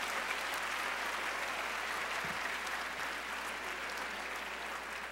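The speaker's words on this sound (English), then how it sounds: "Let's give all of them a great round of applause." At a women's power luncheon, an audience applauds honored guests: a steady, broad wash of many hands clapping, moderately quiet and unbroken throughout.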